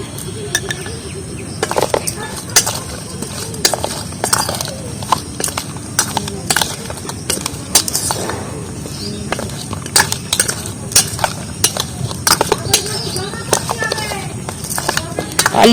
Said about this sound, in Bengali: এবার কিন্তু লেবুর মধ্যে আমি মশলাগুলো সব মাখিয়ে নেবো।